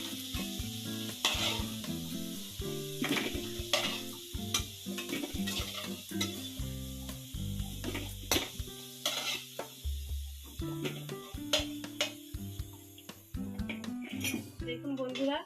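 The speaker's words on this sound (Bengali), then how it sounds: "তো শুধু আমি লবণ দিয়ে আলুগুলো ভেজে নিচ্ছি" Potatoes frying in oil with salt in a pan give a steady sizzle with frequent stirring and clinks of utensils as pieces are lifted out, close up, with a voice talking over it.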